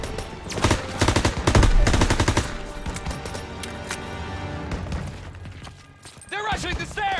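Heavy gunfire in the World War II shooter Call of Duty WWII, loud bursts of automatic and rifle shots stacking into a dense volley, then easing into scattered shots and echoing impacts with shouted voices over the fighting.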